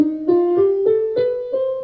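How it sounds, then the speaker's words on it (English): A sustained instrument plays a short stepwise run of a minor scale, six or so legato notes rising in pitch, loud and close with no talk. "So that the minor scale sounds like this."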